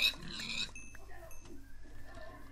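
Pigs oink in a Minecraft game, a few short grunting calls over soft background game sounds, with a brief louder burst at the start.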